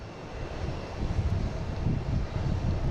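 A Lufthansa airliner flies near Boston Logan airport, giving a steady, broad jet-engine rumble that swells slightly partway through, with wind noise on the microphone and no voices.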